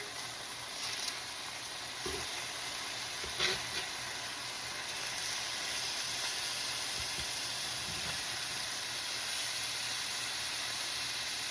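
Chicken breast frying in a pan after flipping, a steady soft hiss and sizzle that runs continuously at low volume with no voices.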